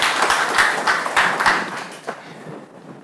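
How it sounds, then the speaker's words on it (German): Applause from an audience in a clean-code programming lecture, a dense wash of clapping with some distinct sharp claps, sustained for about two seconds before thinning out and fading toward the end. "10 Applaus bitte, Tassiana"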